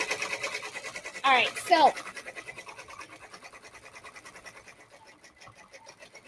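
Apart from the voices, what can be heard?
embroidery machine stitching felt onto a hat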